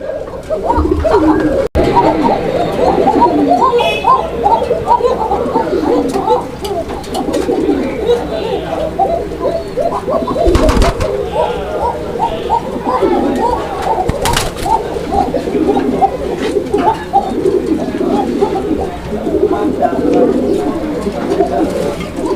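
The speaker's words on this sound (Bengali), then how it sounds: "দর্শক এটা হচ্ছে গোবিন্দ কোকা কবুতর একটা জোড়া" A pair of Gobindo Koka pigeons coos in a continuous, rhythmic, throaty stream, close and steady for the whole stretch, with faint background noise.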